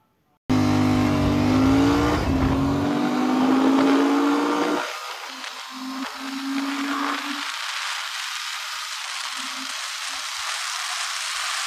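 A Royal Enfield Continental GT 650 motorcycle's engine rises loud and close through its gears in a hard 0-to-100 run, then drops to a quieter, distant drone with brief rising bursts as it pulls away.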